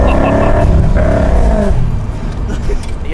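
Classic red 1989 Corvette accelerating through a residential neighborhood, heard from inside the car as a loud low engine drone climbing in pitch through a gear, then easing off into a quieter rumble; someone talks over it.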